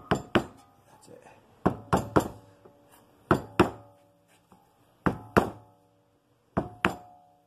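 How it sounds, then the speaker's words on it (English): A hammer strikes a block of wood in sharp pairs of knocks while pressing a front wheel bearing on a 1999 Nissan Maxima, the double blows repeating every second or so, close and crisp, with metallic ring between. "using a block of wood, it's soft, but it still transmits the force from the hammer"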